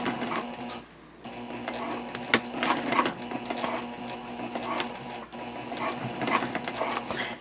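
A sewing machine backstitches through jelly vinyl for an Omnia pouch, its fast needle chatter running steadily close up with a brief dip near the start and small clicks throughout.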